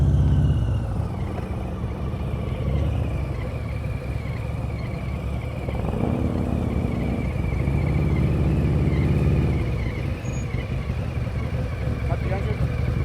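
Low rumbling motorcycle engine idling and turning over gently during slow-speed riding practice, steady and close, with people talking over it.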